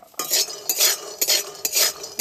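Peanuts, cashews and almonds frying in a pan, stirred with a spatula that scrapes in four quick, even strokes, close and fairly loud, with no voices.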